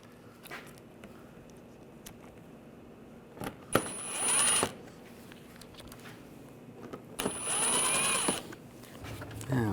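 Screws being snugged down on the intercooler of a 2009-2017 VW Tiguan: two short whirring tool runs, close and moderately loud, separated by quiet handling noise.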